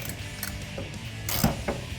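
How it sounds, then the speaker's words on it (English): Ratchet with a 10mm deep socket tightening an exhaust clamp on a 2015-2022 Dodge Challenger 3.6L during an MBRP cat-back install: a short run of close, crisp clicks with a brief louder burst near the end. "with a combination of a ratchet, 10mm deep socket, and a 10mm wrench for the inside one, you can start tightening."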